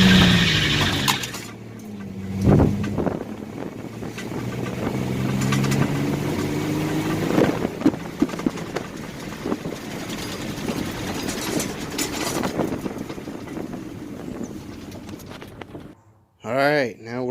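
An abandoned 1993 Chevrolet S10 with a 4.3 engine, parked for 20 years, cranks, then runs with a rough mid-pitched drone that holds steady before cutting off, while someone talks over it.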